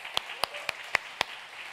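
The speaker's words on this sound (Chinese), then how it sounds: "我们先给父亲掌声好吗？" An audience at a church service claps for fathers in a short burst of sharp, separate claps, five distinct hand strikes spaced evenly over a steady room background.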